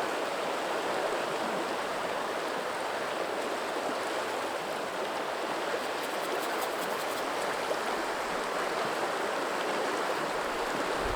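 The Metolius River flows steadily as a continuous broadband rush of moving water, close and even in level throughout, with no voices.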